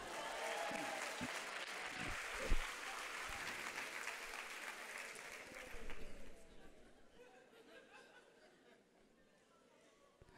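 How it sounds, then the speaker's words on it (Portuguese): An audience at a talk bursts into dense applause mixed with chatter and light laughter, loud for several seconds before thinning out and fading into scattered murmurs. "Uma salva de palmas para Marlene."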